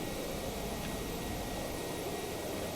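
Aircraft engine throttling up in a video game under development, a steady loud broadband roar with a high whine that holds throughout, alone with no talk.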